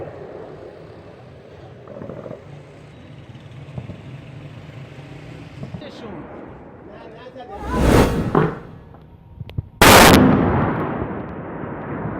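Munitions fired in a combat zone: loud, broad blasts of gunfire, one rolling burst and then a sharper, heavier crack, over a continuous background rumble.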